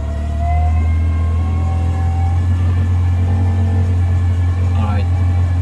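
A Tohatsu 20hp outboard engine on a catamaran hums steadily at raised throttle, a loud, constant low drone close by with a faint whine above it and no talk.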